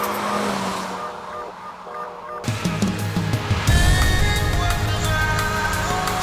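A VW Scirocco is drifting on asphalt: a quieter stretch gives way to loud, steady engine roar and tyre noise that builds and holds to the end, with no talking.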